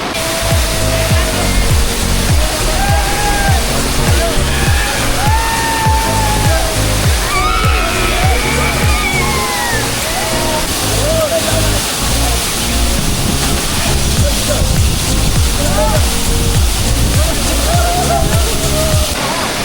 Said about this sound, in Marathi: त्याचं एक उत्तम उदाहरण आहे तो धबधबा म्हणजे एवढे हिडन वॉटरफॉल आहेत आपल्या कुंभारलीमध्ये